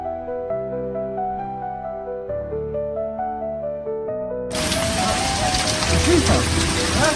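Heavy rain with hail and violent wind sweeps through New York State, a loud dense roar that cuts in abruptly after a stretch of tonal music and continues steadily to the end.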